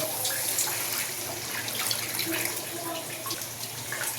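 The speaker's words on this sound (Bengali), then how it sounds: "জল দিয়ে দিলাম।" Water poured into a curry of fried, cooked-down spices, a steady splashing rush that continues evenly throughout.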